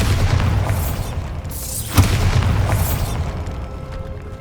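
Bombarda blasting spell in Hogwarts Legacy going off as a deep, rumbling boom with a sharp crack at its peak, set within continuous low rumble and whooshing magical effects that rise and fall around it.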